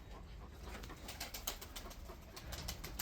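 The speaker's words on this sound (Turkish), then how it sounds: "Bakın paçalı güvercin istiyordunuz." Soft feather-footed pigeon cooing and low murmuring calls repeat steadily against a faint hiss, several birds close by with no talking.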